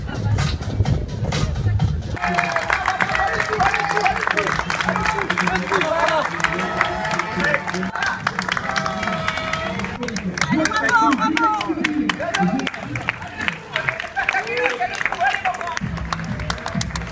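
Crowd applause and cheering for the first woman out of the water at an Ironman-style triathlon swim, steady and busy throughout, with a commentator talking over it.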